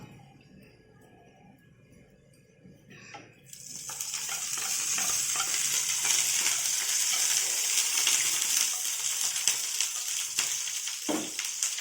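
Cumin and coriander fry in ghee in a pan, starting as a faint crackle and quickly swelling into a steady, loud sizzle. A few light utensil clinks are heard close by.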